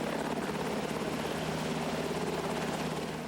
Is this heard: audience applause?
no